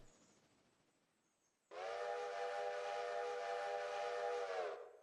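A train whistle blows at Ella station in Sri Lanka, a single long, loud harmonic blast held for about three seconds after faint ambient rumble, then tapering off.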